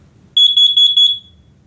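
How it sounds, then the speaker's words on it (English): A Nest smoke and carbon monoxide alarm, sounding during a test, gives four rapid, loud, piercing beeps in quick succession from close by, then falls silent. "This is only a test. Testing smoke."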